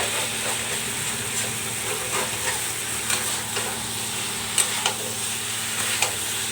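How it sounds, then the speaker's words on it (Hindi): Potato and pointed gourd curry being stirred in a pan as it cooks, a steady sizzle beneath repeated scraping strokes of a spoon, with a few sharper clinks near the end; no one talks. "तो इस तरीके से मिलाते हुए पकाऊंगी और कवर करके 1-2 मिनट इसे चलाऊंगी।"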